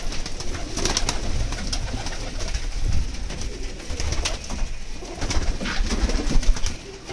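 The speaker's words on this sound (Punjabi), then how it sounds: "ਆਹ ਦੇਖ ਕਬੂਤਰ" Pigeons at a bird dealer's in India coo repeatedly, with low throaty calls overlapping in an irregular rhythm, close and fairly loud, and occasional sharper bird sounds mixed in.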